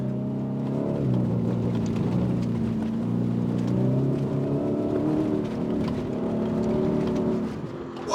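A 2024 Ford F-150 Tremor or Raptor R pickup on an off-road trail accelerates steadily toward a jump, its engine droning in a strong, continuous rising tone heard from inside the cab.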